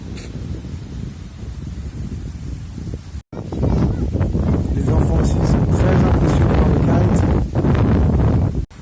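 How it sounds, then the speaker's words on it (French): Strong wind on a beach on Tioman Island, Malaysia, buffets the microphone in a steady roar with gusty surges and brief drops, drowning out any quieter surroundings. "Il y a du vent."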